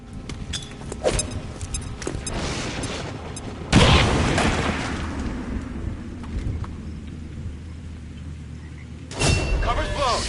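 A grenade blows up in the tactical video game XCOM 2: a sudden heavy boom with a long rumbling decay, followed several seconds later by a second blast, with faint voices in the background.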